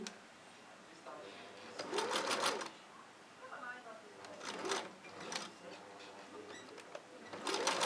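A sewing machine stitches a fringe wig in quick motor bursts separated by pauses, with someone talking over and between the runs.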